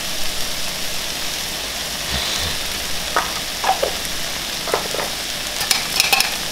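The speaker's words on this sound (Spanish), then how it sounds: "Y pues seguimos removiendo" Sofrito with garlic and ground longaniza sausage frying in a pan, a low steady sizzle with intermittent scraping stirs and small clicks of a utensil, close but fairly quiet, with no voices.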